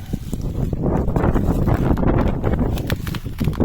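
Wind blows steadily across an outdoor flower garden, a continuous broadband rush with gusty swells and faint rustling, close to the microphone and with no one speaking.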